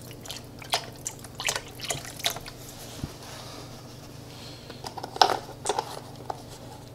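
Vegetable broth is poured into a crock pot, with soft, irregular splashes and drips against a steady low background hum and no talking.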